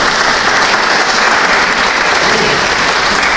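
An audience in a church gathering breaks into dense, sustained applause, many hands clapping at once, loud and close throughout.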